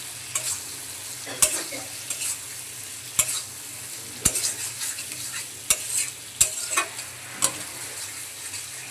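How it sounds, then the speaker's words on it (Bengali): Spices and fried potatoes are sautéed in a pan: a quiet sizzle runs underneath while a spoon scrapes and knocks the pan at irregular intervals, each stroke sharp and close. "এখন সবকিছু আবার ভালোভাবে কষিয়ে নিচ্ছি।"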